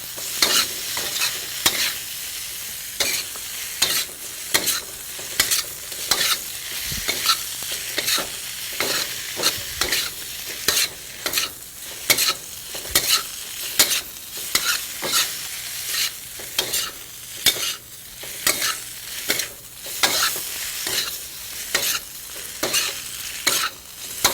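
A spiced curd mixture is stirred in a frying pan, with a spatula scraping and clacking in a quick, irregular rhythm over a steady close sizzle, and no voices.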